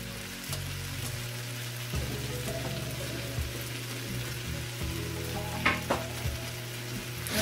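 Bean sprouts stir-fry in a hot pan for vegetarian Pad Thai, giving a steady, close sizzle with scattered clicks and scrapes of stirring and no talking.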